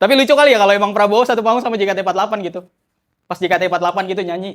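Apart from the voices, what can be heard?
No distinct noise like a dog, phone or traffic.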